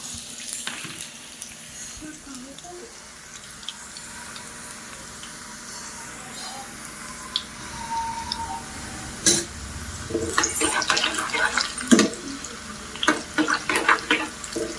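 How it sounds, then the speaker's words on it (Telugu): A homemade snack deep fries in hot oil, giving a steady bubbling hiss that grows busier and more crackly toward the end, close and fairly loud with no talk. "ఇప్పుడైతే డీప్ ఫ్రై చేసుకుందాం."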